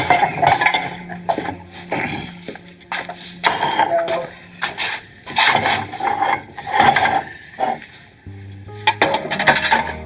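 Dishes, pots and cutlery clatter and clink in bursts as a Thanksgiving table is cleared, with repeated close, loud rattles and brief gaps between them.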